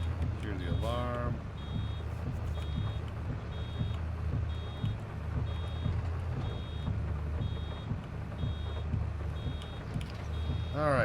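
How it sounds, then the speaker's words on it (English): Vehicle reversing alarm in the video game Farming Simulator 22: a regular series of high beeps repeating at steady intervals over a low engine rumble. "Hear the alarm."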